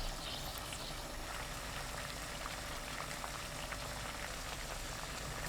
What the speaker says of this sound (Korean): 끓는 물에 굵은 소금 반 큰술, 꽈리고추 넣고 센 불로 3분 데칩니다